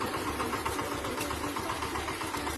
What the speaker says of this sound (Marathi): ट्रॅक्टर आल्यावर ट्रॅक्टर लावून घ्यायला लागली